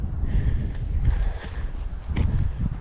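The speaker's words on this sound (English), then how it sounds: "definitely too strong, too windy" Strong gusty wind on a hilltop buffets the microphone with a steady low roar, occasional rustles breaking through, no voices.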